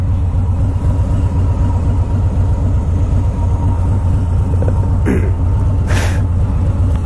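A 2018 Harley Davidson Low Rider motorcycle engine on a ride, a loud, deep, continuous low rumble throughout with wind noise and a couple of brief hissing bursts near the end.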